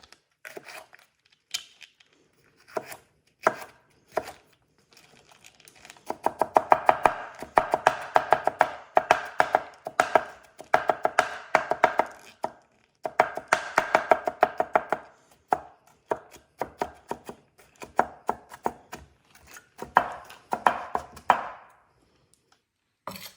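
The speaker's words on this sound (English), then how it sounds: "No science to it, just chop it." Vegetables for raita are chopped with a knife on a cutting board, quick rhythmic knocks in bursts with brief pauses, close and crisp, with no talking.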